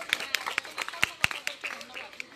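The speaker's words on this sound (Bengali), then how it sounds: "তাদের সকলের জন্য করতালি যাচ্ছি" Scattered hand claps from a small group at a student cabinet election result announcement, sharp uneven slaps rather than sustained applause, moderately close with a noisy room behind.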